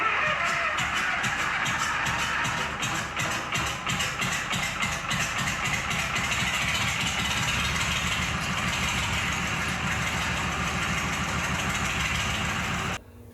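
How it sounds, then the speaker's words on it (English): Gardner diesel engine in a boat running steadily at idle, a loud close rhythmic knocking chug with even pulses throughout that cuts off abruptly at the end. "And now you just got another Gardner Diesel, except this one, I've been joking with everybody, came with a boat around it."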